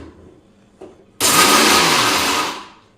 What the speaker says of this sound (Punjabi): ਮਿਕਸੀ ਚਲਾ ਦਿਓ ਉਸ ਤੋਂ ਬਾਅਦ ਬੰਦ ਹੀ ਨਾ ਕਰੋ